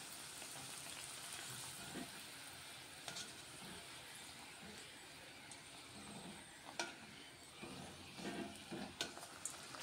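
Potatoes roast slowly in oil over a low flame, a quiet steady sizzle and crackle with scattered light taps and scrapes of turning, faint and close with no talking.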